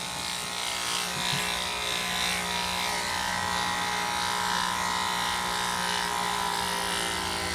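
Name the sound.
electric clippers shaving a Shih Tzu dog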